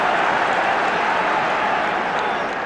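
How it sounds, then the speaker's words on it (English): A steady roar of cheering and applause from a football crowd at a Celtic versus Kilmarnock match, dense and continuous without a break. "Crowd beginning to respond to this."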